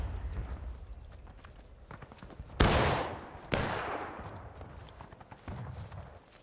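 Musket gunfire in the Civil War video game War of Rights, two loud nearby shots with long rolling echoes over distant scattered firing.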